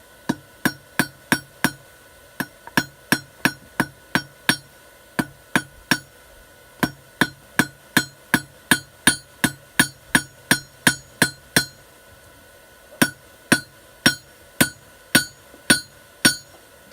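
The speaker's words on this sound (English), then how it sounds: "half on, half off means half of the hammer face is on the edge of the anvil" A hammer rings sharply on an anvil while forging hooks, in a steady, brisk rhythm of dozens of blows, with one short pause. It is close and loud.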